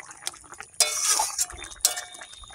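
Chili and cumin powders are mixed into a pot of fish cooking with lentil dumplings and taro flowers, giving two bursts of metal spoon clinking and scraping against the pot between quieter gaps.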